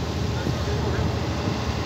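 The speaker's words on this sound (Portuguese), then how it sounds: "essa lancha que nós estamos aqui, uma lancha pequena." A small motorboat crossing the São Francisco River gives a steady broadband engine and water roar throughout, close and constant with no breaks.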